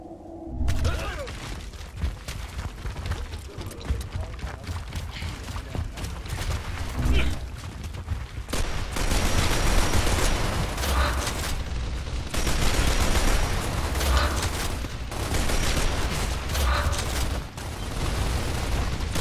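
Dense, continuous gunfire and explosions from the Gears of War Ultimate Edition video game crackle loudly throughout, with players talking over the firefight.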